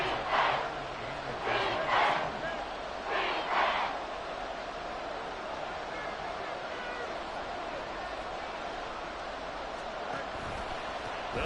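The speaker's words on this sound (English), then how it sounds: "this crowd trying to force a false start here." A football stadium crowd roars in several loud surging bursts early on, then settles into a steady broad rumble, trying to force a false start on a short third down in a Bears versus Falcons game.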